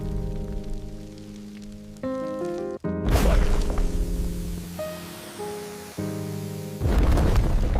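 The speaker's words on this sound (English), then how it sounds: "An instant chemical explosion occurs inside the body." A low, rumbling boom bursts in over a sustained droning tone, followed by hissing, spraying noise and a second heavy blast near the end, a sound effect of a bombardier beetle's internal chemical explosion and boiling spray.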